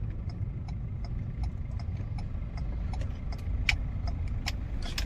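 A Ford EcoSport's engine hums low and steady from inside the cabin during a slow U-turn, with faint ticking and light clicks over the even road rumble, no talk.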